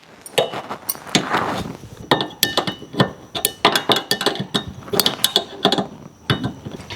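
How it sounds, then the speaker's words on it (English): Wrenches tightening a nut on a hood-mounted ditch light pod bracket of a 2025 Toyota 4Runner, with a string of sharp metallic clinks and clicks in uneven bursts, close and fairly crisp. "Now with some wrenches, we're going to go ahead and tighten it."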